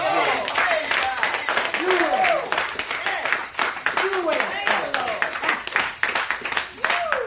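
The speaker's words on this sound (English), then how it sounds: "Come on, give him a hand clap." Church congregation clapping by hand, a steady run of claps mixed with loud whooping and shouting voices from the crowd throughout, lively and continuous.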